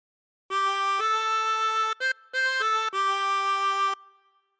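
A chromatic harmonica plays a short phrase of Amazing Grace: a few clean, sustained reedy notes with brief gaps between them, played alone and close.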